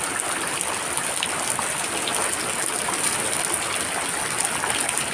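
Heavy rain pours down steadily with a dense, hissing roar, unbroken and close throughout, with no voices.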